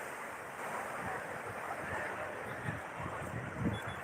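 Sea waves wash onto the shore at Kanyakumari, a steady, soft surf roar with some wind buffeting, heard alone at a low level.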